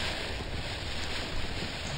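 A sailing boat moving across water in the video game Tradelands, heard as a steady rushing wash of wind and sea noise, with no talking in this short stretch.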